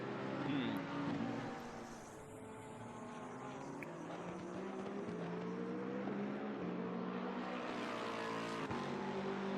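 Lexus RC F GT3 race car engine, a V8, in the ACC racing game, a steady loud drone with shifting tonal harmonics throughout, rising and falling slightly with revs, continuous and close.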